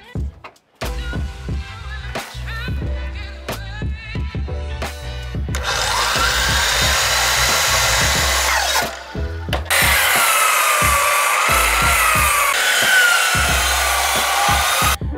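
A power saw cuts 40-degree bevels on 14.5-inch timber pieces for a timber-framed pergola, heard close and loud as a series of sharp clunks that give way to long, continuous high-pitched cutting passes with a brief pause between them.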